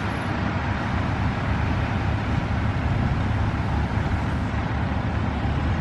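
Continuous low rumble of passing truck traffic in Jewett, Texas, broadband road noise holding steady throughout with no break.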